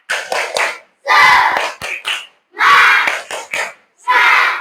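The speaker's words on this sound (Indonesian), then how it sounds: "Sekali lagi, tepuk semangat." A primary school class of children performs the tepuk semangat clapping chant, with short rhythmic bursts of shouted unison voices and claps in quick groups separated by brief pauses, loud and close.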